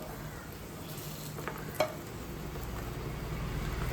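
Raisins and snack ingredients fry and get stirred in a pan for Malabar kaipola, giving a steady low sizzle with soft scraping strokes and one brief clink near the middle.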